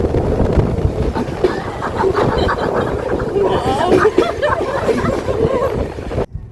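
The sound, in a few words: train at railway station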